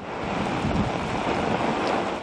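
Loud, continuous roar of heavy surf and strong wind as a typhoon approaches the coast, waves crashing in a dense wash of noise with no voices.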